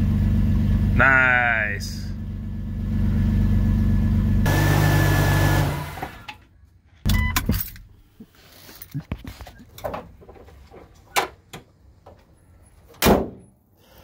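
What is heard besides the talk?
Jeep Cherokee XJ engine firing up after starter replacement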